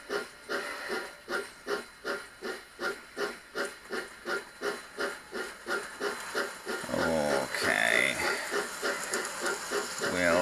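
N gauge model train pulling new wagons, including two tanks, a Coleman's mustard van and an egg wagon, running past with a steady rhythmic clatter of wheels over rail joints that swells and fades as it goes by.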